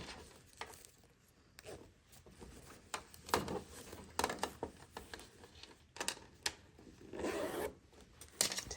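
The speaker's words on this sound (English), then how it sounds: "we're going to zip the zipper." An invisible zipper on a sewing project is zipped closed, giving a series of close, quiet rasping zip strokes in short bursts with brief pauses between them and no talking.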